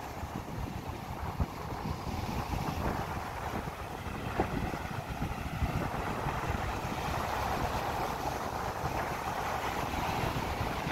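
Small sea waves slap and wash around a fishing boat out at sea, a steady rushing surf mixed with heavy wind buffeting the microphone, continuous and fairly close.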